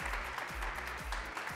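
Studio audience applauding for Oscar on a Spanish-language dating TV show, a steady wash of clapping under repeated low music beats, moderately loud throughout.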